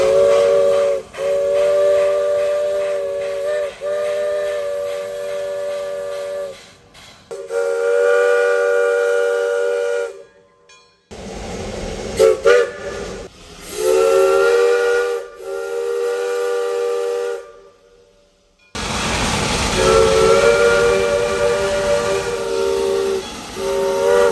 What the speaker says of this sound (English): The engine is also equipped with a H. Belfield Company 3-chime whistle.